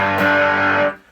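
An electric guitar chord rings through a Hermida Audio Tiki Drive overdrive pedal set with both gains, both tones, voice and volume at noon. It is one thick, heavily driven strum held for under a second, then cut off.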